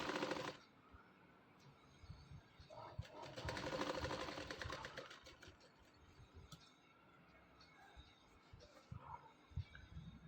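A sewing machine stitches around a blouse sleeve, running in bursts of rapid mechanical clatter that swell loudest midway, then settle into quieter intermittent stitching with faint background noise.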